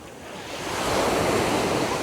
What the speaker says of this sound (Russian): Уже меня достает эта волна.